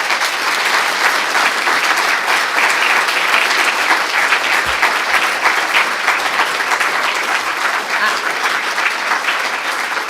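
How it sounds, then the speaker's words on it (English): A full general assembly hall gives a steady, dense round of applause for award recipients, loud and unbroken for about ten seconds with no talk over it. "I think we ought to give them just one more round of applause"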